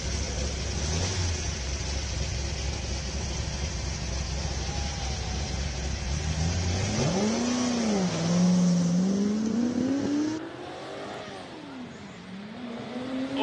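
Lola T70 5.7-litre race car at a classic hill climb in Cape Town, engine droning steadily at first, then revving up and climbing in pitch as it accelerates past, loud and close.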